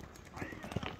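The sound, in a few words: horse hooves clip-clopping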